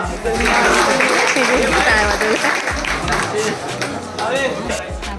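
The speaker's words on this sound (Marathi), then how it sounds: "जर तुम्हाला मजा येत असेल तर एकदा टाळ्या वाजवा." Audience clapping at a village lottery event during a Ganapati festival gathering in Kore, with loud crowd hubbub and voices mixed in throughout, the clapping dense and steady rather than distinct claps.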